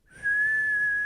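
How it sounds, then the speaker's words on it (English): A boatswain's whistle sounds one clear, steady, high note that swells in quickly and holds for about a second. "The boatswain whistle blew,"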